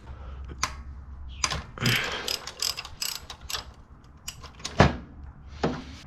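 Bolts being loosened with a ratchet on the 1.8L engine of a 2006 Honda Civic, giving a few separate bursts of clicking and metallic clanks at close range with no talking.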